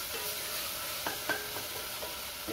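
Tomatoes sautéing in a pan while being stirred, a soft steady sizzle with a few light scraping strokes near the middle, faint and close.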